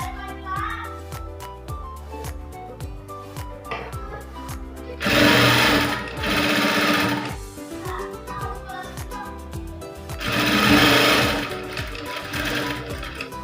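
A sewing machine stitches blouse fabric in rapid, even bursts, its mechanical clatter running steadily, with two louder, denser passages of fast stitching partway through.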